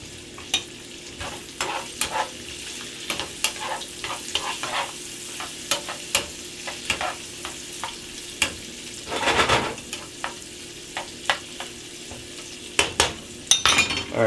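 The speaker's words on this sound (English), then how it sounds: "Alright, so we're going to add our chorizo. We're going to smash that up." Chorizo sizzles steadily in a pan while being smashed and stirred, with repeated sharp scrapes and clicks of a utensil against the pan throughout, one louder burst of frying midway.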